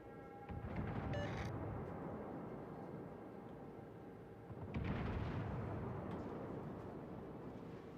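Two deep, rumbling booms of naval gunfire from the World of Warships video game roll out over a low, continuous background drone, heavy but somewhat muffled.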